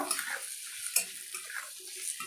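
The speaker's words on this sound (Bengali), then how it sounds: "আর কাজু কিশমিশটা হালকা সবজির সঙ্গে একটু ভেজে নেব।" Chopped cashews and raisins fry lightly with vegetables in a pan for sabu pulao, a faint soft sizzle with scraping stirring sounds and an occasional small clink of a utensil, close up with no voices.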